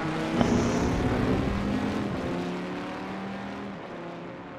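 Sim racing car lapping the Spa circuit in a GT Super Pole session, a steady engine drone with shifting harmonic tones throughout, fairly loud and continuous with no talking.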